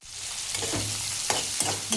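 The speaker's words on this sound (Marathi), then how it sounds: "तर चांगला कांदा भाजून घेऊया" Onion, curry leaves, green chilli and cumin fry in a pan for thin besan, producing a continuous close sizzle broken by a few sharp spoon-scrape clicks.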